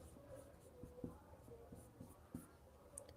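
Pen writing words on paper, very faint scratching and soft taps in an irregular rhythm, close and quiet with no talk.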